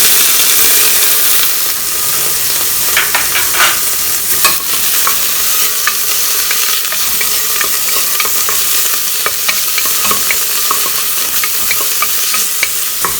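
Prawns fry in a hot pan with a steady, loud sizzle, punctuated by occasional scraping and stirring clicks, close up with no voices.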